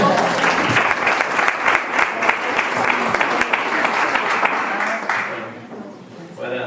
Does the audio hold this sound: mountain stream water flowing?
no